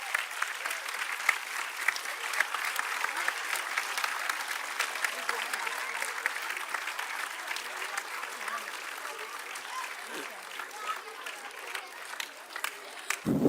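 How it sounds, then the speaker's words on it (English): Sustained audience applause for the actors, singers and dancers of a Wizard of Oz stage show, dense clapping from a large crowd that holds steady for over ten seconds, with faint voices underneath. "Once more, a big round of applause for our actors,"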